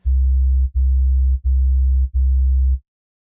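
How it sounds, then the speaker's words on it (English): Four deep, pure sine-wave bass notes made in the Vital synthesizer, each held about two-thirds of a second with brief gaps, played alone and loud. "It's just a really simple sine wave I made in a Vital."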